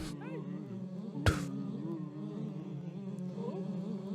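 Bees in the Hidden Folks video game buzz steadily through the whole stretch, a continuous droning hum with a brief sharp burst partway in.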